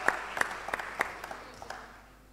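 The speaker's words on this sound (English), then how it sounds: "another round of applause to her." Audience at a digital transformation event applauding a participant, a short scattered burst of claps that thins out and fades within a couple of seconds.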